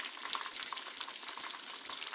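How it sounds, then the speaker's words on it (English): Chicken frying in hot oil gives a soft, constant sizzle dotted with quick, irregular pops of grease, quiet and close with no voices. "the noise of the popping grease and the oil"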